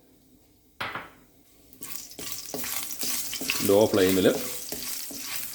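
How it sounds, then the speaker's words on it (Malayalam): Cardamom pods, cinnamon pieces and cloves drop into hot oil and burst into a close, loud sizzle that swells and holds, with a spoon scraping the pan and a brief spoken remark. "എണ്ണ ചൂടായി വരുമ്പോൾ ഒരു 6 ഏലക്ക, ഒരു 2 കഷ്ണം കറുവാപ്പട്ടയും ഒരു 5-6 നമ്മുടെ ഗ്രാമ്പും കൂടെ ഞാൻ അതിലേക്ക് അങ്ങ് ഇട്ടു"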